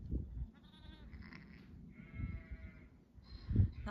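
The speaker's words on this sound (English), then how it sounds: "the sheep and lambs that have just been born, the new lambs" Sheep and newborn lambs on a farm bleating, several short thin and wavering calls from different animals at a moderate distance, with low outdoor rumble between them.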